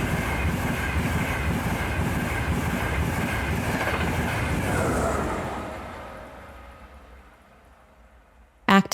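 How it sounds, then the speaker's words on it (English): A train rumbles and clatters along the rails, then slows and quiets as it comes to a halt, ending with a sharp brief clank. "The train pulls into the station"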